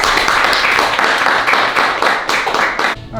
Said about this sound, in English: Everyone give Hans a round of applause.